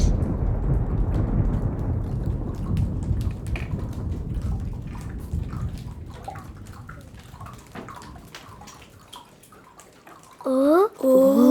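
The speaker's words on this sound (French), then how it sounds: "De l'eau, la pluie. Il était temps." Heavy rain pours down in a storm, a dense hiss that slowly fades and thins into scattered drops before a voice briefly speaks at the end.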